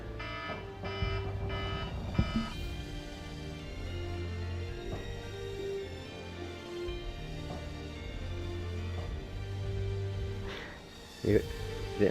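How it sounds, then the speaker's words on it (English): Alarm-like electronic tone blaring through a World of Tanks console match, a steady repeating beep pattern sustained across the clip over game engine rumble. "is it an alarm or something?"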